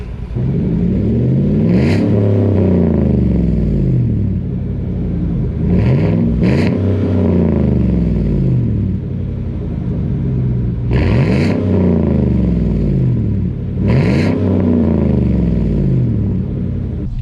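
A loud, throaty exhaust from a 2015 GMC Sierra pickup, straight-piped with muffler and resonator deleted, revs repeatedly, rising and falling in a steady rhythm of roaring pulls with no voices.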